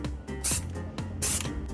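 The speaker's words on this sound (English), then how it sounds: "So all I did was take the cans of spray paint." Tan spray paint hissing from an aerosol can onto an airsoft gun in two short close bursts, each about a quarter second long, with quieter handling noise between them.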